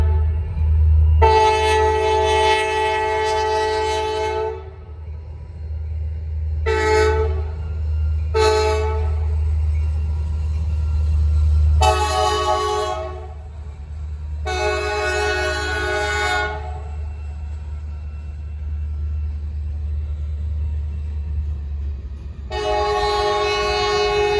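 A Norfolk Southern freight train rumbles past close by, with a low steady roll underneath while its horn sounds in several loud blasts, some short and some long, spread across the pass.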